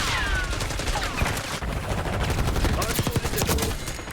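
Rapid automatic gunfire from the shooter game Black Ops 6, sustained bursts of crackling shots mixed with sharp clicks and impacts, loud and continuous throughout.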